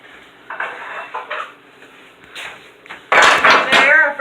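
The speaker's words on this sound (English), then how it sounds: "I'm going to grab my cupcake pans." Metal cupcake pans are grabbed in a home kitchen, giving a few light knocks and then a louder burst of metallic clattering near the end.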